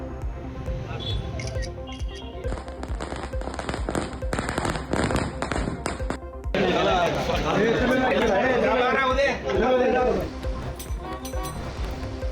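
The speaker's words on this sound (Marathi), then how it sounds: "कार्यकर्त्यांकडून गुलालाची उधळण करत फटाक्यांची आतिषबाजी" Firecrackers pop in a dense, rapid crackling barrage at an election celebration where party workers throw gulal. The bursts are loud and continuous, with crowd chatter underneath.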